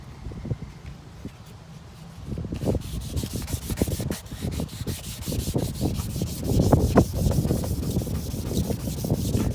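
Car headlight lens being sanded by hand with 1000 grit sandpaper, a steady close rhythmic scratchy rubbing that grows louder and faster after a quieter start.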